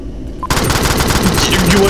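Rapid automatic gunfire in the sci-fi shooter Alien Swarm starts abruptly and continues loud and dense, a steady stream of shots with a voice briefly under it.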